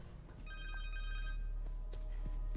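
A mobile phone rings in the video game Marvel's Spider-Man 2, a short electronic ringtone pattern over a low game ambience with a heavy rumble and a few thumps.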